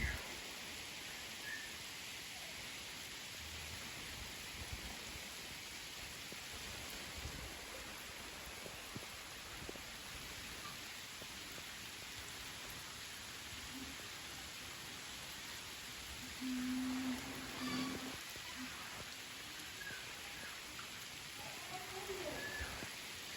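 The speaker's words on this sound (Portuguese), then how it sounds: "Muita chuva abençoada na fazendinha" Heavy rain pours down on a small farm as a dense, even hiss of downpour that lasts throughout, fairly distant and soft, with a brief low tone partway through.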